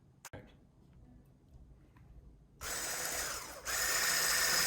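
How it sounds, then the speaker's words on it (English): An electric mixer whips egg whites until frothy for a Hungarian Esterhazy cake. After quiet handling noises, a loud, steady high whirring starts partway through and then steps up in speed. "Now we're going to be whipping these egg whites until they're frothy."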